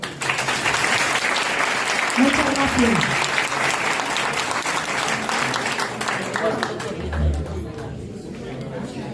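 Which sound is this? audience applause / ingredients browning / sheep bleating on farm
audience applause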